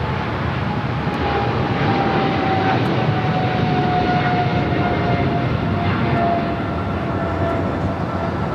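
Singapore Airlines heavy jet departing LAX, a dense broadband engine roar with a faint falling whine, loud and unbroken throughout.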